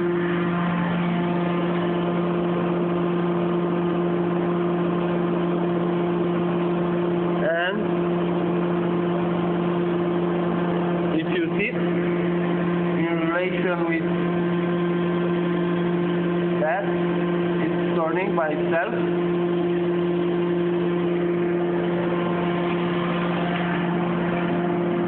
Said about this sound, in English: Engine on.